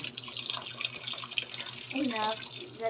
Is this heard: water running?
yes